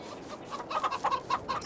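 Chickens cluck in the farming video game Farming Simulator 22, a quick run of soft, close, rhythmic clucks and murmurs heard alone.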